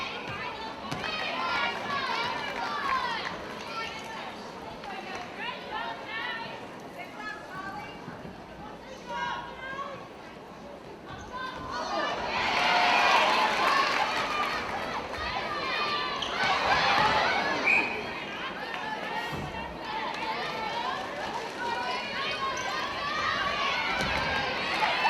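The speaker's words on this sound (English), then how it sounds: "Very large vocal crowd here at Priceline Stadium." A large, vocal crowd roars and cheers at a netball grand final at Priceline Stadium, a steady wall of voices under close commentary that swells louder midway, with people talking throughout.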